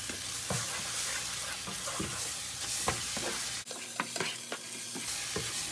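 Eggs sizzle and stir-fry in a pan with rice for fried rice, a steady, close crackle broken by repeated sharp scrapes and taps of a utensil against the pan. No one speaks.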